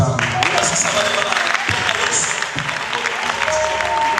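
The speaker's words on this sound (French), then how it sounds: "Voilà les amoureux de Jésus qui acclament très fort pour Yahweh." A worship crowd cheers and applauds loudly for Yahweh at a religious gathering with a prophet in Lubumbashi, a dense continuous wash of clapping and voices.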